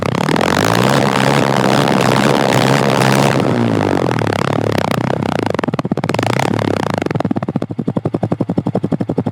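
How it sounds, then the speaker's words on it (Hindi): A Bajaj Pulsar N160 motorcycle exhaust revs loudly up close, a rising then falling roar that drops into a rapid, pulsing idle burble; no one speaks. "अब हम लोग देखते हैं N160 के एग्जॉस्ट की साउंड।"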